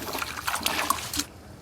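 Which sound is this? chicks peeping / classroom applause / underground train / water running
water running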